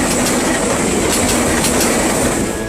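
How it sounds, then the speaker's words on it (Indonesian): Malabar passenger train speeding past the Jalan Laswi level crossing toward Bandung station, a loud continuous roar of rolling wheels and rail clatter filling the whole stretch, recorded close by. "video amatir warga yang merekam kereta api Malabar melaju kencang dari arah timur menuju arah stasiun Bandung"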